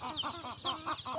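Chickens on a poultry farm cluck in short, repeated bursts, close and moderately loud, with a few rising calls mixed in.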